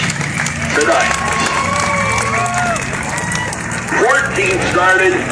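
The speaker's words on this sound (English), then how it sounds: "How about a round of applause for all of our drivers tonight?" An audience at Agassiz Raceway applauds and cheers for the drivers after a 125-lap race, a steady wash of crowd clapping and shouting with a few children's voices rising above it.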